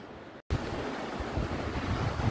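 The Millpu waterfall in the Ayacucho region roars with a dense, continuous broadband rush, close and loud, after a brief drop at the start.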